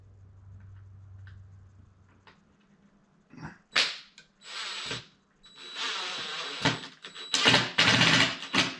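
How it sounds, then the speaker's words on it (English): A power driver sets screws to anchor the legs of a clay sculpture in a studio. A low hum gives way to several close, rising bursts of whirring, each followed by a short pause, with no talk. "I'm anchoring his legs right now with some screws"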